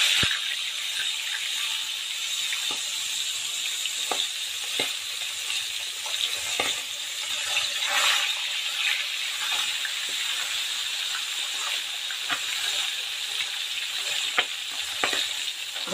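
Milkfish daing na bangus frying in hot oil, a loud continuous sizzle with bursts of popping and splattering throughout, close up and alone without talk.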